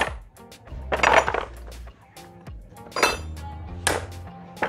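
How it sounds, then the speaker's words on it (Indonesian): Light taps of a hammer on a valve part from a Honda Supra X 125 motorcycle engine, several sharp metallic clinks at irregular intervals, close up in a workshop with no talk. "Lalu kita ketuk sedikit menggunakan palu teman-teman, seperti ini."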